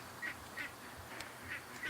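Ducks give four short, nasal quacks at an even pace. The calls are fairly faint, set against a quiet background, and no voices are heard.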